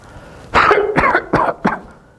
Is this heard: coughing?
yes